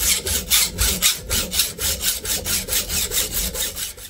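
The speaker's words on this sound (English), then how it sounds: "if I wanted to do this much sawing, I would have started a wood workshop" Hand sawing through the steel crank axle of a steam locomotive, a steady back-and-forth rasp repeating roughly twice a second, loud and close with no talk.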